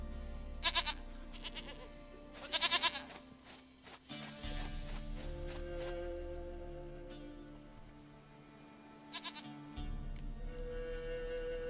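Goats in The Witcher 3 bleat in several short bursts, two quick cries early on and another later, over quiet sustained game music and a faint footstep or two.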